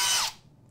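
A Bosch Professional power drill winds down abruptly as its kickback protection trips, a short loud burst of motor whine lasting under half a second before cutting to quiet.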